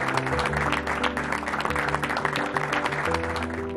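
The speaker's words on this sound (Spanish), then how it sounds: "me gustaría recibirlo con un aplauso fuerte." An audience at an event gives loud, sustained applause to welcome a 12-year-old boy, the clapping blending with music that plays throughout.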